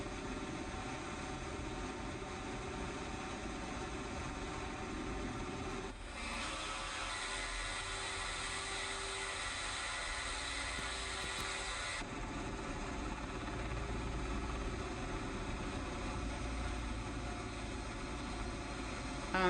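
Military helicopters in the DCS combat flight simulator settling onto landing pads, their turbine and rotor noise a steady broadband whine that shifts partway through as the engines begin to spool down, no voices.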